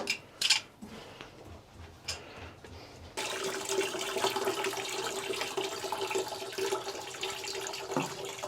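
Water rushes out of a tankless water heater being flushed during a water softener installation, starting with a few clunks and splashes, then settling into a loud, steady gushing flow.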